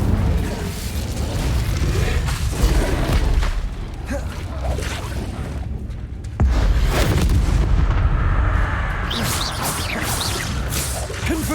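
Incendio fire spells cast in Hogwarts Legacy burst out as loud, dense booming blasts with whooshing rushes, a continuous barrage of heavy rumbling impacts that briefly dips before surging again.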